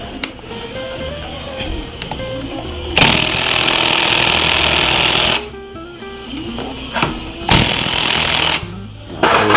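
A power tool tightens the magneto nut on a Yamaha Mio Soul 125 scooter, with two loud bursts of rattling, hammering impact noise amid lower mechanical background sounds.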